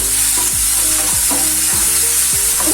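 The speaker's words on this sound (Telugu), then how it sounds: "జింజర్ గార్లిక్ పేస్ట్ పచ్చి వాసన పోయేదాకా బాగా ఫ్రై చేసుకోండి" Onion frying in oil with ginger garlic paste, a loud continuous sizzle with the spatula stirring and scraping the pan in a steady rhythm about every half second.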